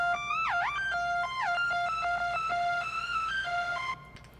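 Bright sawtooth lead from Ableton's Wavetable synth, five unison voices in noise mode at a low amount, styled like metalcore. Sustained notes swoop and glide between pitches, solo and steady in level, with no talking.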